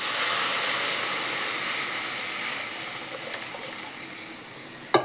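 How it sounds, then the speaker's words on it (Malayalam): Tamarind water poured into a hot pan of chilli and coriander powder for a sour egg curry, giving a loud, steady sizzling hiss that slowly fades over several seconds, ending with a brief clatter. "എന്നിട്ട് പുളിവെള്ളം ഒഴിക്കുക കേട്ടോ."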